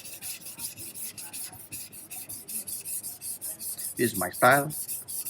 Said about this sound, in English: This is the finishing on the 320 grit.